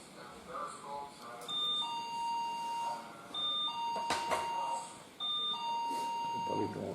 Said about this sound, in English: And you can hear the doorbell, it's of the store.